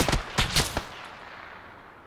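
Several sharp gunshots from PUBG gameplay burst in a quick cluster during the first second, each a loud broadband crack, followed by a fading echoing tail and quiet.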